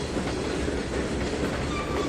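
A freight train rolls past in the Trainz 2019 railway simulator, a steady close rumble of wheels and cars with clickety-clack rhythm throughout.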